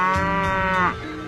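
A cow gives a single sustained, loud moo up close, the low drawn-out call fading at the end with no one talking.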